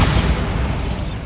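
The Bombarda spell in Hogwarts Legacy goes off as a heavy, close boom, a single low rumbling explosion that decays quickly.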